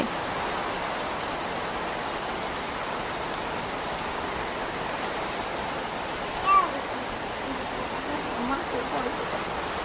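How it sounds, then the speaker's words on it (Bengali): Heavy rain pours down in a dense, steady wash of noise, with a brief faint voice or creak partway through. "আর এই দেখো কত জোরে বৃষ্টি নেমেছে"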